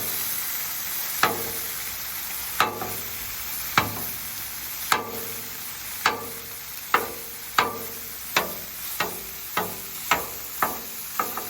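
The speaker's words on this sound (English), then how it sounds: "we're gonna go ahead and just put that down on our Blackstone" Corned beef and cabbage fry on a Blackstone griddle at a state park campsite: a steady sizzle under a string of sharp metal spatula taps that come faster and faster toward the end.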